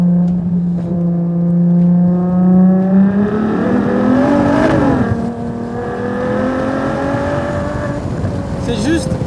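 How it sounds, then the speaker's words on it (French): Ferrari Monza 810 hp naturally aspirated V12 revving loud and close, a rising tonal engine howl that climbs in pitch, peaks, then eases back, with a voice talking over it. "sous le capot avant, on retrouve le V12 atmosphérique le plus puissant jamais construit par Ferrari"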